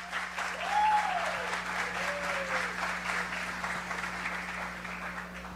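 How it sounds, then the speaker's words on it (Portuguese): Steady applause from a large live audience at a business summit talk, a dense wash of clapping sustained throughout, fairly loud and even, with no speech over it. "uma salva de palmas aqui"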